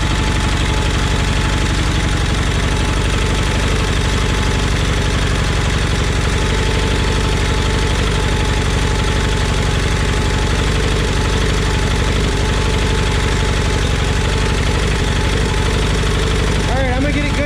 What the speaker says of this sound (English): I don't know if you can hear that valve noise, but I sure can.